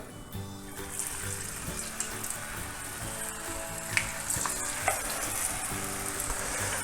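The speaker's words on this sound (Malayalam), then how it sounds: "ശരിക്ക് തിളച്ചെണ്ണയിൽ ഇട്ട് കൊടുത്തത്" Malabar ennappathiri, fried rice-flour flatbreads, bubble in hot oil over a high flame. The close, steady frying sizzle carries on without pause under light background music.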